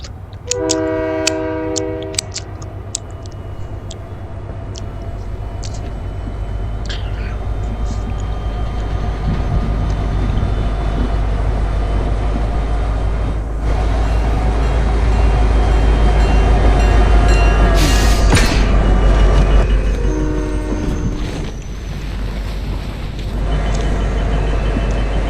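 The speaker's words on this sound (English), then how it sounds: "Let me wait for the train" A train rumbles past in the video game Fortnite, a loud sustained low roar with a horn blast near the start and another burst later, no talk over it.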